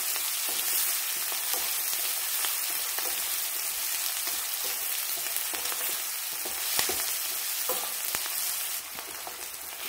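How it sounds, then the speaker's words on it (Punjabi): Onion frying lightly in a pan for aloo methi, a steady soft sizzle with faint scattered crackles throughout, alone without any talk. "ਪਿਆਜ਼ ਨੂੰ ਅਸੀਂ ਹਲਕਾ ਜਿਹਾ ਭੁੰਨਣਾ ਆ, ਨਰਮ ਕਰਨਾ ਇਹਨੂੰ"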